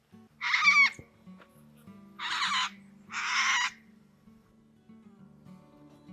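A pink cockatoo, a native bird of the desert, gives three loud, harsh screeching calls, each about half a second long and spaced a second or so apart, over quiet background hum.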